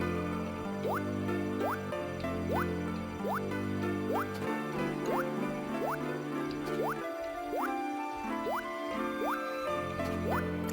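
Watering crops with a watering can in a farming video game: a string of bright, rising water-drop blips repeats steadily about every half second over a constant background music loop, with no talking.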